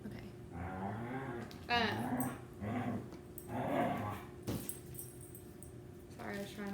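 Dogs growling, whimpering and yipping in bursts at close range inside a home, mixed with a voice talking over them.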